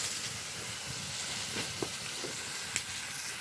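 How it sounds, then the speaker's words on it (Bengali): Chicken meat sautés in a well-cooked spice paste, giving a soft, even sizzle and hiss with a few faint stirring clicks, fairly quiet and with no voices. "মশলাটা সুন্দর মতো কষানো হয়ে গেছে এবার মাংসটা দেওয়া হলো কষাবো"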